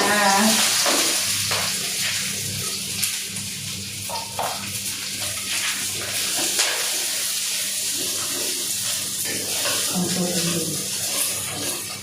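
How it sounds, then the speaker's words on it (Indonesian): Shallots and garlic frying in a little oil, a dense continuous hiss and crackle held close and fairly loud throughout, with faint scraping now and then and no talk over it. "Beri sedikit aja minyaknya untuk bumbunya. Saya masukkan bawang merah, bawang putihnya."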